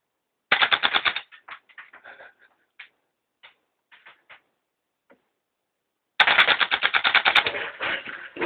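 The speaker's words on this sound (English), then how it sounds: "Keep firing. I want to do an auto." AGM M4 RIS gas blowback airsoft rifle firing full auto, two sharp rapid bursts of clattering shots with a few scattered single clicks between them, close and loud.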